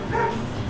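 A dog barks outside a bicycle shop in the morning, a single short yelping bark close by over low background noise.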